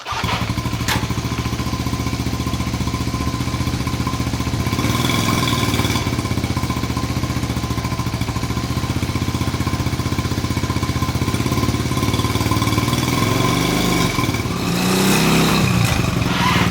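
A Honda Trail 70 motorbike with a dirty, fuel-starved carburetor runs continuously and loudly, its small engine putting steadily without ever reaching full throttle, with slight surges near the end.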